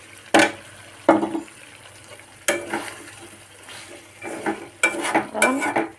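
Potatoes tumble into a pan of frying curry and get stirred, bringing bursts of scraping and sizzling with clattering spoon strokes against the pot, close by and irregular, with steady frying underneath.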